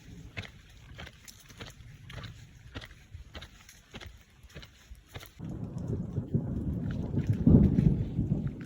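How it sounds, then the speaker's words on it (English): Thunder rolls over Pine Mountain Trail as a storm fades: light rain patters steadily at first, then a deep, swelling rumble builds and lingers loud across the last seconds. "The rain just stopped and still a little bit of thunder."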